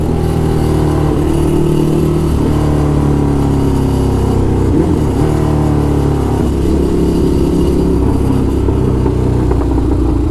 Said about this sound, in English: Let's get some downshifts in.